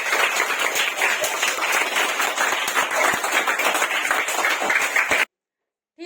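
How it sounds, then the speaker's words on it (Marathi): Schoolchildren at a balloon race game clap for the winning team: dense, loud, continuous applause from many hands for about five seconds, then it stops abruptly. "टाळ्या वाजवा यांच्यासाठी."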